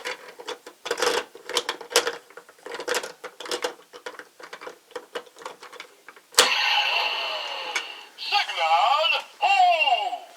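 Kamen Rider Drive DX Trailer-Hou toy with the Signal Kaksan signal bike inserted, giving electronic recognition beeps and jingles followed by a bright synthetic blasting effect with warbling tones, clean and close with no talking.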